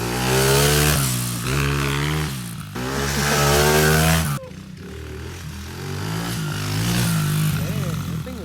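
A BMW E36 engine fires up and revs hard, its loud, raspy note climbing and dropping in repeated bursts before settling into a rougher, lower idle, with voices faintly mixed in.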